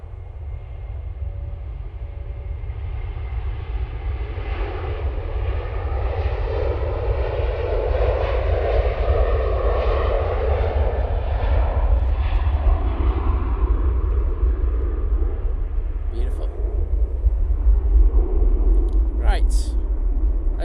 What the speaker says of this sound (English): So Aer Lingus A380 now off to Bridgetown.